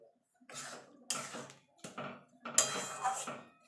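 Granulated date-palm jaggery being stirred into a pan of sandesh mixture, several separate bursts of spoon scraping and clatter against the pan, close by with short pauses between strokes.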